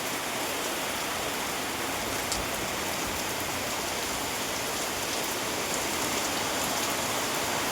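Steady rain falls on a waterlogged yard, a dense, even hiss of drops continuing unbroken throughout, close and fairly loud, with no voices.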